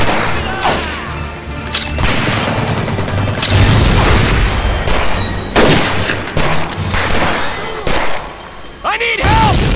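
Battle in Medal of Honor: Pacific Assault: heavy booming blasts and dense bursts of rifle and machine-gun fire, loud and close, layered with shouting voices throughout.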